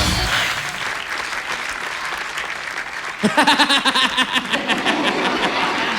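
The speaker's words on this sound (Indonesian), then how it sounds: "Tepuk tangan." A studio audience at a televised talent show starts with a low crowd murmur, then bursts into loud, close clapping that continues steadily to the end, with voices underneath.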